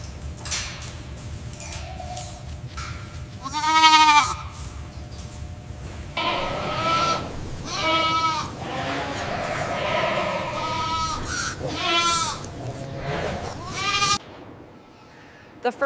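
Goats and newborn kids bleating in a farm pen, several separate wavering calls at varied distances, one loud near bleat early, over low background rumble before the sound cuts off near the end.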